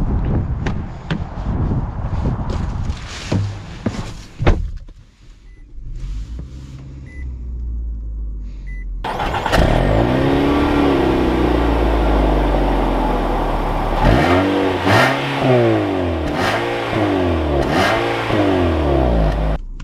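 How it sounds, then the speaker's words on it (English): A 2021 Nissan Altima SR with all-wheel drive starts up, idles with a low rumble and then pulls away, the engine note rising and falling through gear changes, heard from inside the cabin. "let's take this Altima out and see how it drives."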